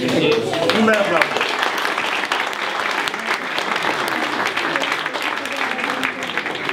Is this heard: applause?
yes